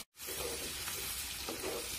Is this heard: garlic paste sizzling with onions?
yes